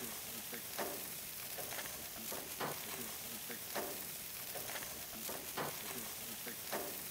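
Short ribs sizzle on a grill outdoors in a Tex-Mex cookout, with a steady crackling hiss and scattered sharper pops at a moderate level throughout.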